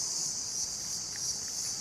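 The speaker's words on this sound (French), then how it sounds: "Là vous entendez le bruit, c'est des gros grillons qui volent" Large crickets flying make a loud, steady high-pitched wing buzz that drones without pause near a river, with a few faint chirps standing out.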